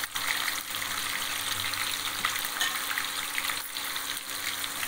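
Chopped onion frying in hot oil for a spiced potato rice, giving a steady, close hiss of sizzling that runs unbroken throughout with no talking.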